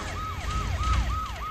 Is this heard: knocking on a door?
no